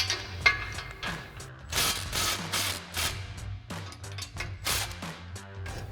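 Ratchet tightening the exhaust flange bolts on a Ford F-150 during a Rough Country dual exhaust install, heard as repeated bursts of close metallic clicking in an irregular rhythm, with no talking.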